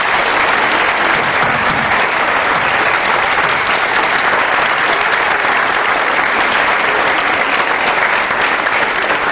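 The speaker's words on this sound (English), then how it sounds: "please also give a nice round of applause to Dylan's father, Senor Lopez, who's here with us tonight" An audience at a school event in Waltham gives loud, dense, steady applause that fills the whole stretch without pause, with many hands clapping together.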